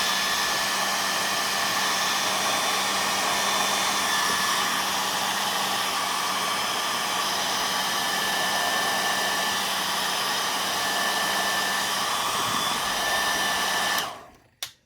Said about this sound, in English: let's just get some heat into it